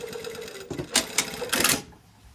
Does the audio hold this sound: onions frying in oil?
no